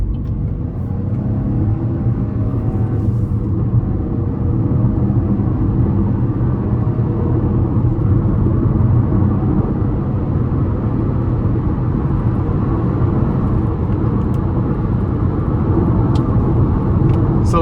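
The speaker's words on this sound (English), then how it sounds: "I'm gonna give it some pull here getting on the interstate though." A 2025 Chevrolet Trax 2RS with a 1.2-liter three-cylinder accelerating up an interstate on-ramp, heard from inside as a steady, loud low engine drone and road rumble with no pauses.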